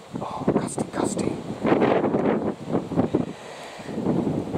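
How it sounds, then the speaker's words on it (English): Gusty wind in a kitchen garden buffets the microphone in uneven surges, with a low rumbling roar rising and falling over a few seconds. "Oh, it's getting too windy."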